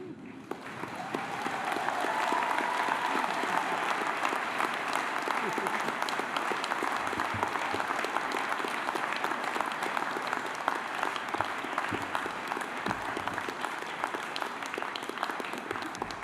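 An audience at a university graduation ceremony gives sustained, steady applause for graduates' families, a dense wash of clapping that builds over the first seconds and holds evenly to the end.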